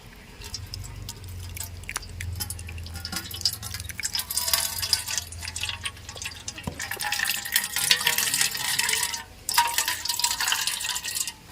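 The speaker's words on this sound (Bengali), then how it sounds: "তরমুজটা ছেঁকে জুস বার করে নিয়েছি" Grated watermelon juice is strained through a sieve, giving a close, continuous trickle and drip of liquid with a low hum underneath.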